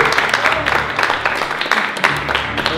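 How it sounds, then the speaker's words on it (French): An audience at a Bible cover design challenge applauds, with dense clapping held at a fairly loud, even level for nearly three seconds while voices murmur underneath. "Et d'abord, on aimerait applaudir"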